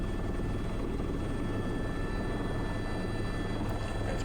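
A helicopter carrying a heavy sling load of bags comes in on approach, its rotor thump and turbine roar loud and constant throughout.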